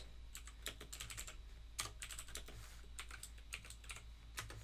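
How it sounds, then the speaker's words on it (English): Fingers type on a computer keyboard in quick irregular bursts of close, crisp key clicks, pausing briefly between words, over a low steady hum and with no talking. "Type these words."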